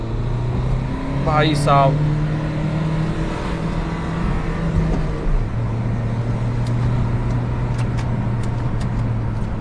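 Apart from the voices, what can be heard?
SUV engine revving while driving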